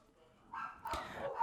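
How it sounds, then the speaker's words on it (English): Dogs bark off in the background, muffled and some distance away, starting quietly and turning into a couple of louder barks in the second half of the short stretch. "Sorry if you can hear the dogs in the background."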